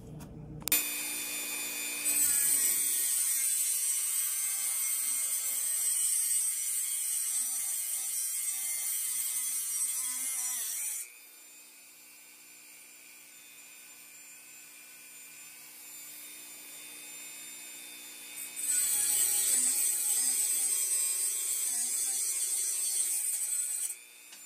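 A knife handle is sanded with steady, close abrasive rasping in two long passes separated by a quieter stretch of faint scraping, with no talk.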